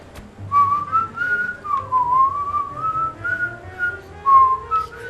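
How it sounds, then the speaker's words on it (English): Someone whistles a wandering, breathy tune in a series of short phrases, close and clear with no talk over it, in the L.A. Noire game. "I can't whistle. Can you whistle?"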